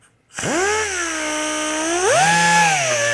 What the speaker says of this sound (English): this is called a Dynabrade sander. It's a brand name, Dynabrade, and it's a variable speed.